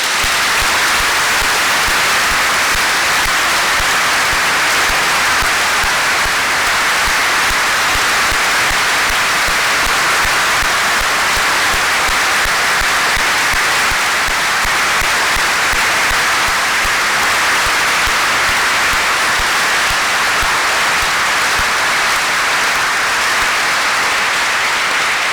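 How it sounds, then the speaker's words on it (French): A church congregation at Sunday Mass applauding the statue of the Virgin Mary, a dense and continuous round of clapping that stays loud and even throughout. "je voudrais qu'on l'applaudisse encore plus fort"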